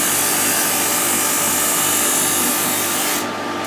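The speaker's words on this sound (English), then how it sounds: "and I'm just sanding it" A wooden boomerang sanded by hand with fine sandpaper up to a marked line: a steady, close, continuous rasping scrape that keeps an even level throughout, with no talking.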